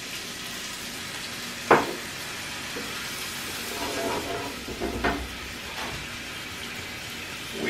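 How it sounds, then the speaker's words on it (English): Beef broth poured into a pan of sizzling drippings left from cooked elk steak, bacon and onions: a steady close frying hiss with a few sharp splashing bursts as the liquid hits the hot pan. "So now we're gonna add our beef broth."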